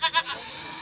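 A goat gives a short, close bleat in two quick pulses that fade into a steady hum, before a ritual sacrifice at the Uppalamma village festival.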